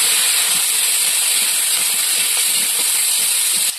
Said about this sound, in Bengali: লঙ্কাগুলো, পেঁয়াজটাও ভেজে নেবো। ভালো করে ভেজে নেবো।